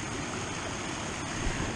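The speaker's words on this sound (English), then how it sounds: "So obviously we got enough water to fill that underground creek, and is now just flowing right over the top." Rain-swollen creek water floods over the top of its bed after an underground channel fills, making a loud, constant rushing wash with no pauses or voices.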